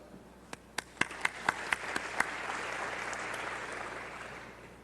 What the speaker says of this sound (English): Could I have all the seated delegates give a quick round of applause?